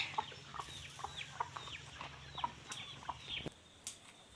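Chickens cluck close by in a series of short, sharp, irregular calls. A quiet low background hum runs underneath.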